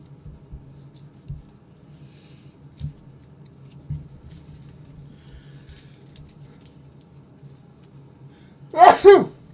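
A single sudden sneeze bursts out near the end of a quiet indoor stretch, close and fairly loud, following faint scattered taps and clicks.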